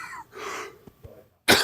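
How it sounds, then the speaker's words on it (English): A man coughs several times in quick, harsh bursts close to the microphone, with a louder final cough after a brief pause. "I got so much coughing."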